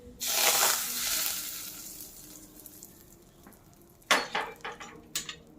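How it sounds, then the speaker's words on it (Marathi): Hot cumin-mustard tempering oil is poured into an egg vada mixture, setting off a loud sizzling hiss that fades away, followed later by a few sharp clinks and scrapes of utensils, close up with no talk. "आपण ही फोडणी आता यामध्ये ओतायची आहे"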